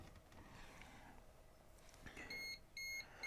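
An electrical voltage tester held near an RV outlet gives three short, high, clear beeps in quick succession at the end, after a stretch of quiet room noise.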